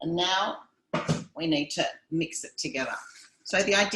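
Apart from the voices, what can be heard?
None of the usual background noises is heard.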